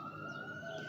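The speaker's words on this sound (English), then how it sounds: "Sirens up in the background." A siren wails faintly in the distance near a town fire station, a thin steady tone under quiet street ambience.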